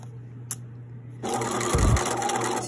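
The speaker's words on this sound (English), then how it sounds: "And I'm going to continue sewing" A sewing machine runs along a centered zipper seam, starting after a quiet moment with one faint click, then a continuous close whir with a brief heavier thump partway through.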